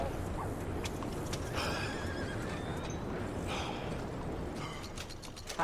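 A horse in Red Dead Redemption 2 whinnies clearly over steady clip-clopping hooves, with a few creaky tack and mechanism sounds beneath, no talk.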